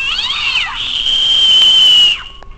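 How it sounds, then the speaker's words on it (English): A Halloween hidden screamer prop in a store goes off with a loud, shrill electronic shriek that warbles briefly, then holds a high piercing tone for about a second and a half before cutting off abruptly. "they have the hidden screamers as well."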